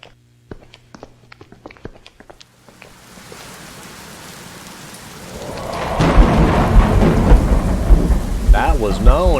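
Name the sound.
thunder and lightning in a video game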